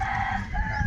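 A rooster crows loudly and close by in one sustained, strained call that fills the whole short stretch.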